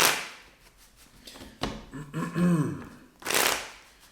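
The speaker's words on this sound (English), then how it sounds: "Let's get 3 more shuffles" Tarot cards being shuffled up close: a few brisk riffling bursts with soft shuffling and handling noises between them, and a brief murmur of voice.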